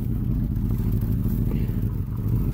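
Land Rover V8 engine, left sitting in a field for 12 years, running with a low, rumbling idle, close and continuous, with faint clatter and slight unsteadiness.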